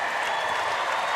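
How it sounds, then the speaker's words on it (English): A sold-out basketball crowd cheers and applauds in an arena during an NCAA women's tournament game, a dense, steady wash of noise with no clear voice standing out. "Sold out crowd here at the Kennel."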